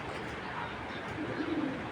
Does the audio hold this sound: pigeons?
yes